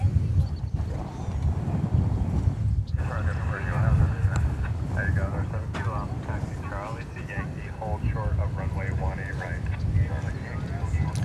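An American Airlines Boeing 737-800 arriving at DFW Airport rumbles steadily at a distance under wind noise, its broad roar holding over the whole stretch while a voice talks over it.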